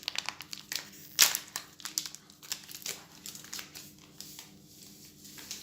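A small packet of yeast gets torn open and handled at close range while pizza dough is being prepared, producing a busy run of crinkling and rustling paper with one sharper rip early on.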